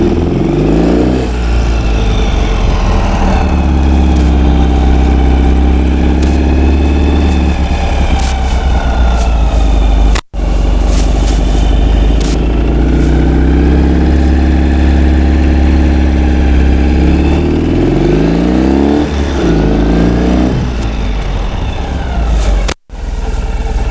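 A 2013 Ural Adventure Patrol motorcycle engine runs loud and close for the whole stretch, holding a steady idle that swells into several rising and falling revs, with two brief dropouts.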